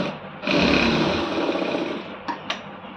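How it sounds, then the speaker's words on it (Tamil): Sewing machine running steadily as it stitches a seam in fabric, a continuous loud whirring motor hum with a couple of brief clicks near the end. "இதில் வந்து ஒரு தையல் போட்டுருங்க"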